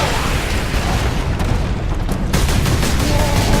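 Heavy bolter gunfire in Warhammer 40,000: Space Marine roars as a dense, continuous barrage of loud booming shots and blasts, with overlapping impacts forming a thick wall of combat noise.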